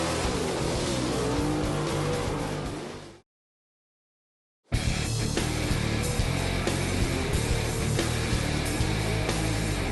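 Dirt track race cars roar loudly and continuously at a night race, engines droning with a broad rumble, then cut out briefly before the loud engine noise resumes.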